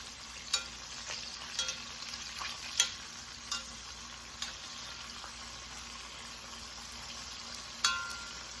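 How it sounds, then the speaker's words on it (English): Beef chuck for a St. Patrick's Day beef stew with Guinness sears in a pan and gets flipped: a faint, steady sizzle broken by a few sharp clicks and clatters. "Flipping my beef stew, beef chuck, not lamb"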